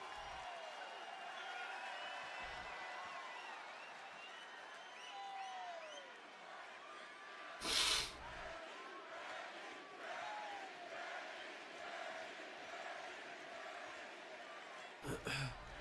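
A wrestling arena crowd at a SmackDown event cheers and roars in a steady, dense wash that continues throughout, broken by a few brief, sharp bursts.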